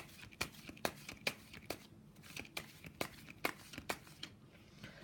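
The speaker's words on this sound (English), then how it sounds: "I'm still shuffling" Tarot cards being shuffled by hand, a run of faint, crisp slapping riffles repeating in an uneven rhythm close to the microphone.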